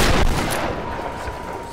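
Shotgun fire in the Tomb Raider video game, a loud blast at the start and then a ringing, rumbling decay with a steady high tone running under it, with no talk.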